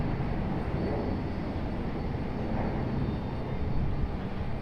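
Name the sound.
airliner landing at RDU airport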